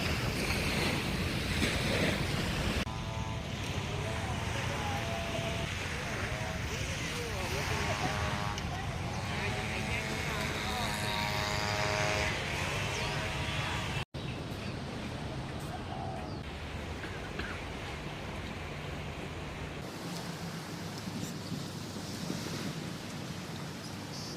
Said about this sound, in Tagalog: eto po yung dagat na yan